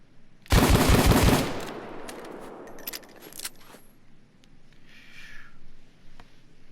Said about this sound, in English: I'm gonna try to control the recoil this time, while I'm still firing pretty quickly